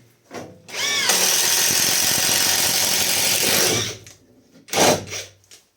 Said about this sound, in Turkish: Şimdi 22 milim hızlı delen ucuyla deniyorum.